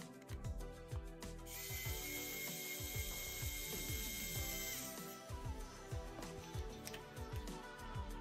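The large screw on an RC rock crawler beadlock wheel is undone with a ratcheting tool, a fast rapid clicking that runs steadily throughout alongside mechanical rattles, close up, with no speech.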